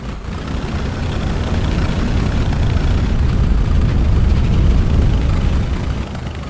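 A Stuka dive bomber's piston engine drones in the War Dogs WW2 flight simulator game, a steady, loud, low rumbling roar that swells slightly and holds without pause.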